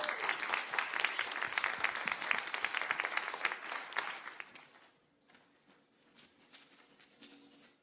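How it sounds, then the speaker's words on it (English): A crowd claps for a newly appointed city manager and assistant city manager, a dense burst of applause that fades after about five seconds, leaving scattered claps and room murmur. "Let's give them a round of applause, please."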